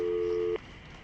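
Telephone tone in the Syberia video game, a single steady electronic beep lasting about half a second, then cutting off to quiet line hiss.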